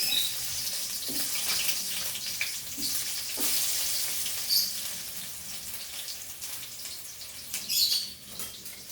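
Onions sizzle in a hot pan during Bicol-style chicken cooking, a steady close crackling hiss with occasional stirring scrapes and brief louder spatters.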